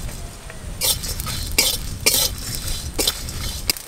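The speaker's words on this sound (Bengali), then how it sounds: "এবার আমি সমস্ত গোটা মশলা দিয়ে শুকনো কড়া একটু ভালো করে ভেজে নেব।" Whole spices are dry-roasted for biryani masala in a dry wok (kadai), with five or six sharp scraping and clattering strokes of a spatula over a low background hiss.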